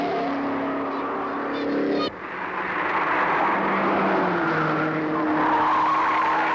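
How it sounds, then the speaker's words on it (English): Race cars, including Datsun Bluebirds and a Ford Cortina, roar past at the 1966 Bathurst 500 (Gallaher 500) in Australia, a loud continuous engine drone with a brief tire squeal and a sharp shift in pitch as they pass. "Close behind the Cortina come the other 2 Datsun Bluebirds, driven by Roxborough Whiteford and Colwell"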